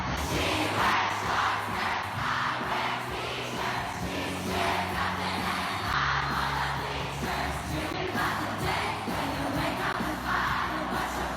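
Crowd at a performance in a mall, a loud continuous roar of cheering and screaming fans with shifting swells, steady throughout.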